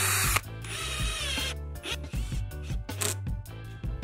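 A power drill whirs in bursts while driving screws into composite decking boards for a raised planter bed, motor pitch rising and falling with short pauses and clicking stops, fairly close.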